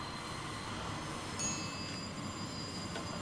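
A train passes on a railway line in the Roblox game Terminal Railways, producing a steady, faint rolling rumble with high wheel squeal tones running throughout.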